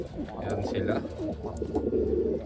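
Taiwanese Wantai racing pigeons coo in soft, repeated low rolling calls close by, with a person speaking briefly over them.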